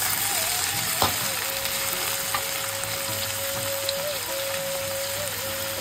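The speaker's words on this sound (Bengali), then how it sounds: "এদিকে সবজিটা আমাদের প্রায় ভাজা হয়ে এসেছে।" Winter vegetables such as cauliflower and beetroot frying in a pan, a dense, loud, even sizzle throughout with a faint steady whistling tone running alongside.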